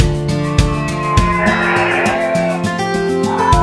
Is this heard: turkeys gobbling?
no